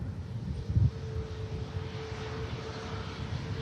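A Jet2 Boeing 737 at Manchester Airport gives a steady, moderately distant jet engine roar with a low rumble and faint whine, alone and fairly even throughout.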